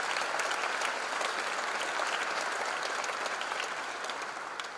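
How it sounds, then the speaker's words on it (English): Students at a freshers' induction program applaud together in a large hall, a steady dense wash of clapping that holds for about five seconds and eases slightly toward the end. "Give a round of applause for them as a mark of gratitude."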